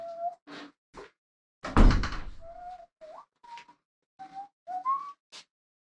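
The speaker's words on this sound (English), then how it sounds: "A job site whistle." Someone whistles a short, halting tune of separate notes, interrupted early by a loud knock or thump.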